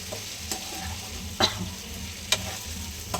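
Cauliflower frying in a pan gives a steady, close sizzling hiss, broken by a few sharp clicks of stirring.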